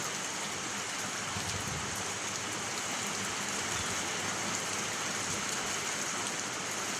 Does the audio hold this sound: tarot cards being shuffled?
no